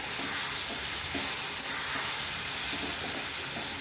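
A potato mixture being stirred in a hot pan, producing a steady, dense sizzling hiss that runs unbroken throughout and sits close and fairly loud.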